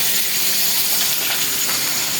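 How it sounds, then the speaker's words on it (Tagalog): Steady, loud sizzling of food frying in a pan, a continuous bright crackle and hiss with no voices. "Tapos ayan, nagpiprito pa ako."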